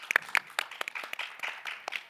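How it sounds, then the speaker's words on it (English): Brief, light audience applause for a captain at a COP28 event talk, scattered hand claps pattering unevenly for about two seconds, fairly quiet and in the middle distance. "A round of applause for the captain."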